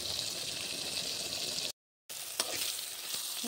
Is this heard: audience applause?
no